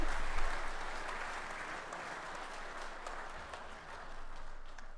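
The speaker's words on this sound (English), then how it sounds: "Round of applause." Sustained applause from many hands fills the whole stretch, a dense steady clatter of clapping at moderate loudness with no break, accompanying a gaming session.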